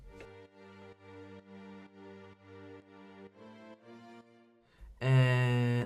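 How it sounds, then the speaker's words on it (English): Expressive Labs violin strings play chopped chords in a steady rhythm, then a much louder, denser burst of sound takes over for the final second. "Then I added my Labs violin,"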